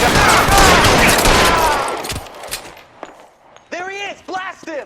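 Loud rapid gunfire from the video game L.A. Noire rattles for about two seconds in a dense volley, dies off into scattered echoes, then someone shouts.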